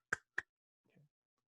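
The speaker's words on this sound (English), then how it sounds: "Slow clap coming up." Two sharp, isolated claps about a quarter second apart, loud and close in a quiet lecture room, followed by a brief faint low rustle and then silence.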